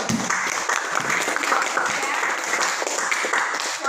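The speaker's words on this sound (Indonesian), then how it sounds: "Selamat beri tepuk tangan dulu." A classroom claps for Temi, the winner of the day's assessment, with dense, continuous clapping filling the room and voices chattering underneath throughout.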